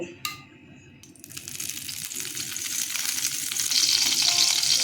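Oil heats in a frying pan for an egg korma, starting as a faint hiss after a brief clink and building into a steadily louder sizzle, with no talking.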